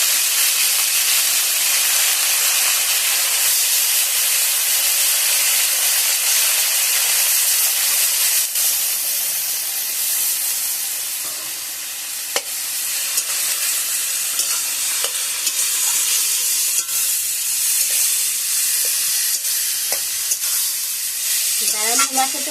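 Sliced radish sizzling and hissing steadily in a hot pan as it fries for a Bengali radish ghonto with lentil dumplings, a continuous close frying hiss with occasional stirring clinks.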